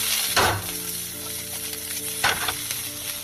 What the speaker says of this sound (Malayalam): ഒരു പാൻ ചൂടാക്കിയിട്ട് 1 ടീസ്പൂൺ എണ്ണ വയ്ക്കുക. ചൂടാകുമ്പോൾ നമ്മൾ അരിഞ്ഞു വെച്ച വെജിറ്റബിൾസ് എല്ലാം ഇടുക. നല്ലതായിട്ട് ടോസ്റ്റിങ് ചെയ്യുക.